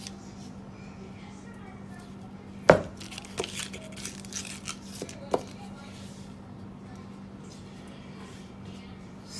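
A knife cuts butter into pieces on a board for whole wheat sweet potato biscuits, with one sharp knock followed by several softer, scattered taps over a steady low hum in a quiet kitchen.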